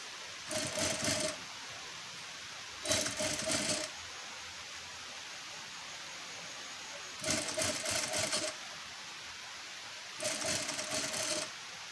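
A sewing machine stitches lace onto the round neckline of a blouse in four short bursts of rapid whirring, separated by quiet pauses, close by and with no talk.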